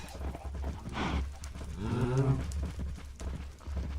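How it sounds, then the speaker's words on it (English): Cattle in a video game moo a couple of times amid soft clopping and rustling, at moderate distance and fairly faint. "Still have quite a few cows."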